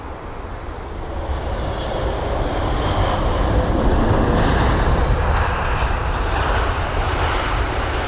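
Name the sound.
Boeing 777-200ER taxiing to the runway at Heathrow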